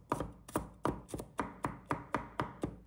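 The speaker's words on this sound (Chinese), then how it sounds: "准备一把大蒜，把它切成末" A knife chops garlic into mince on a cutting board, giving about nine crisp, evenly spaced knocks in a steady rhythm, close and clear, with no voices.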